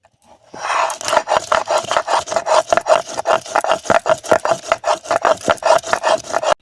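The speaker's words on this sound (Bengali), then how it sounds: "জিরে বাটবো এবারে।" Cumin being ground with a little water on a traditional grinding stone, a loud, steady rhythmic rasp of stone scraping back and forth in repeated even strokes, close up with no talk.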